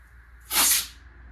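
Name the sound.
imitation of SpongeBob's pants ripping sound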